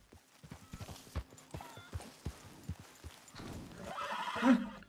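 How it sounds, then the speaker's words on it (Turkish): Horse hooves clopping in a steady rhythm through Red Dead Redemption 2 gameplay, then a loud neigh and whinny near the end, with no talking over it. "Beyaz yeleli, kahverengi, kirli kahverengi bir at."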